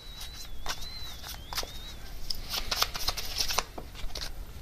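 Tarot cards are shuffled and drawn by hand, a close, crisp flurry of riffling and flicking card snaps in quick bursts.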